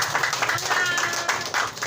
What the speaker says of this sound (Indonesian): Tepuk tangan, berikan aplaus buat Pak RT 10.